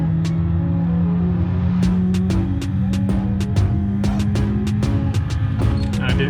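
A race car in Assetto Corsa, on the M1 Concourse track, drives down a straightaway with a steady, loud engine drone and a rising tone as it builds speed, with sharp clicking transients scattered over it.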